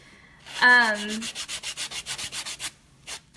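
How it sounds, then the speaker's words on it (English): Nail buffing during a glitter dip powder manicure: a short squeak, then about a dozen quick, even rasping strokes close up, followed by a brief pause and one last stroke. "I know that buffing's a little bit loud, but we try to do it on camera so you guys can see it"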